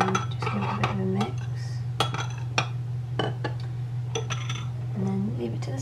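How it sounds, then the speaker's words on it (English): Milk being mixed in a bowl with a spoon for vegan chocolate cupcakes, giving a series of close clinks and taps of metal against the bowl over a steady low hum. "then just give it a bit of a mix"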